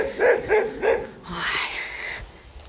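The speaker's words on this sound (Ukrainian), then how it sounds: "А, він на нього гавкає, диви." A dog barking at another animal outdoors in Ireland, three quick, fairly close barks in a row followed by a softer whining, drawn-out call.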